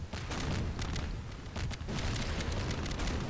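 Explosions in Garry's Mod burst in rapid, overlapping succession, a loud rumbling barrage of booms with brief lulls between volleys and no talk.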